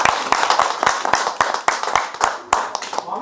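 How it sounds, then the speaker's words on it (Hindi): An audience claps loudly and steadily at a song launch event for a company anthem, sharp overlapping hand claps filling the room for a few seconds without any speech. "पहला गाना लॉन्च कर रहे हैं, इसके लिए हम जोरदार ताली बजाएं।"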